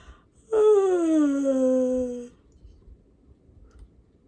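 A person imitates a yawn with one drawn-out, falling vocal moan of about two seconds that starts suddenly, stands alone over a quiet room and then fades into near silence.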